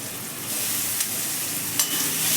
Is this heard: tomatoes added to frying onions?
yes